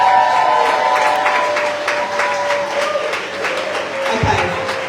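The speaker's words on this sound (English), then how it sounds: "The next person is, huge clap for Jill." Applause and clapping from a supporters' crowd at a political independent MP's gathering, a steady dense wash of claps filling the whole stretch, fairly loud and sustained.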